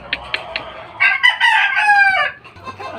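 A gamefowl rooster of the Hatch breed crows nearby in a single loud, drawn-out cock-a-doodle-doo, preceded by a few short clucks and followed by quiet farmyard background.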